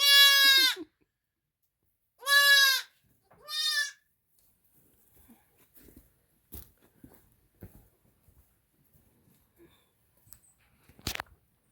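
Goats at a farm in cold weather let out three loud, drawn-out bleats close by, then fall quiet apart from faint scattered rustles, small knocks and a sharp click near the end.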